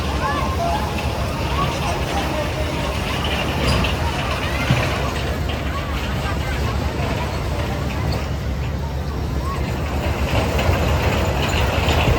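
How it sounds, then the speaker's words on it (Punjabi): A small children's ride-on train at the Sirhind fair in Punjab rumbles and clacks along steadily amid outdoor crowd babble, with voices talking in the background. "ਇਧਰ ਆ ਟ੍ਰੇਨ ਵੀ ਜਿਹੜੀ ਚੱਲ ਪਈ ਦੇਖ ਸਕਦੇ ਹੋ ਛੋਟੇ ਬੱਚਿਆਂ ਵਾਲੀ"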